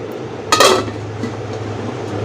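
A lid set onto a cooking pot of goat leg soup on a gas stove at medium flame gives a single short metallic clink over a steady low burner hum.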